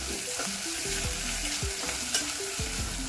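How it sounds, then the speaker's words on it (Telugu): Onions fry in hot peanut oil inside a pressure cooker, a dense continuous sizzle and crackle with occasional spoon scrapes, close and steady throughout with no voices. "ఇందులోకి నూనె వేడెక్కాక ఆనియన్ వేసుకుందాం."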